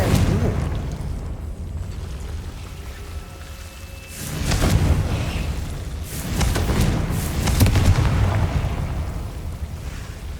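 Fiery Confringo blasting spells in the video game Hogwarts Legacy erupt as two heavy, rumbling explosive bursts over a constant roar of battle noise.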